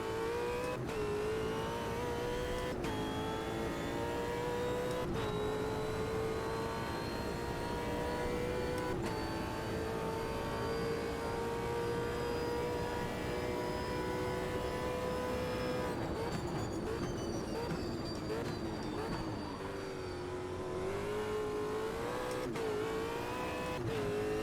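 Race car engine in the sim racing game Automobilista 2, a steady loud drone rising and falling through repeated gear shifts and revs, with a rougher downshifting stretch midway, continuous with no voices.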